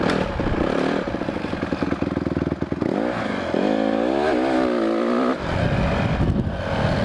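Race motorcycle ridden on a small pit bike track, its engine droning loud and close throughout with shifting revs and a rising pitch sweep midway, plus some clatter.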